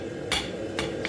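Three sharp metallic strikes, a rounding hammer hitting metal in a blacksmith studio, the first two spaced apart and the last quicker, ringing briefly over a low steady hum.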